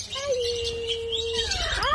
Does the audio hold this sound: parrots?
yes